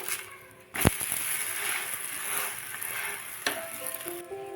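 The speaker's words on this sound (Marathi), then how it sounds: "चला तर मग दुसरं धिरडं सुद्धा आपण परतून घेऊया." Wheat flour dhirade pancake frying in a hot pan gives a steady, close sizzle throughout, with a sharp clatter near the start and another brief knock toward the end.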